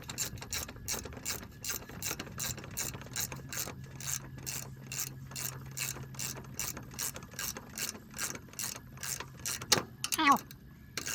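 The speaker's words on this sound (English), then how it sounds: "Now, let me get my socket and ratchet. The good old 19mm." A ratchet with a 19mm socket clicks in quick, even strokes while tightening a bolt on a bike, the close, crisp metallic ticking repeating steadily for about ten seconds.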